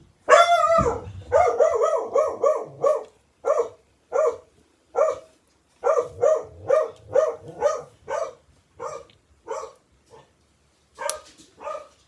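A dog barks repeatedly indoors, a steady run of sharp, fairly loud barks with short pauses between them, heard alone without talk.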